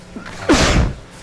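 A single short, sharp sneeze bursts out in a meeting room during a public commission session, with a faint breath just before it.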